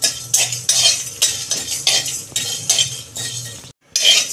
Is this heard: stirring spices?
yes